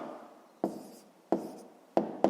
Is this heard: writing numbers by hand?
yes